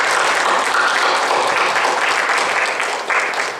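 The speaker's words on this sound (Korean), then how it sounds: "우리 감사의 박수를 드리겠습니다" A church congregation at a Korean infant baptism service breaks into a full, steady round of applause that holds at an even, loud level throughout, with no voices over it.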